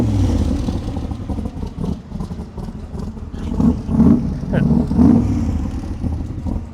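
A Cobra car's engine revs and rumbles as it pulls up nearby, throaty bursts rising over a clattery background while people talk.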